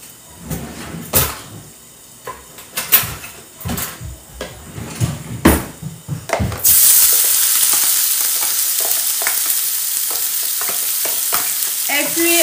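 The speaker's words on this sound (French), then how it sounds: "L'huile est déjà bien chaude. Et qu'est-ce que je fais? Je vais venir ajouter de l'oignon ici." Onion hits hot oil and bursts into a loud, continuous sizzle, preceded by several seconds of clinking and clattering of utensils and cookware in a kitchen while cooking meat vermicelli.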